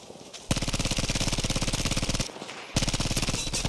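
Rapid automatic gunfire from the Type 2A in Battlefield 5, two long close bursts of evenly spaced loud shots split by a brief pause, with no talk.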